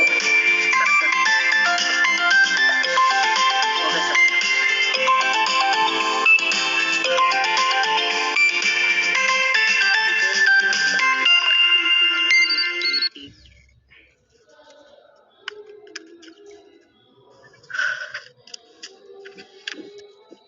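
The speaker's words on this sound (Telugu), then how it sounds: "ఒక్క నిమిషం ఈ కాల్ కమింగ్" Ringtone of an incoming phone call during an online zoom class, a loud continuous melodic tune ringing for about thirteen seconds before cutting off abruptly, followed by faint clicks and scattered small noises.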